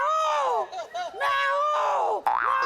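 A man imitates a peacock's call with loud, drawn-out nasal wails that rise and fall in pitch over a few seconds, close to the listener.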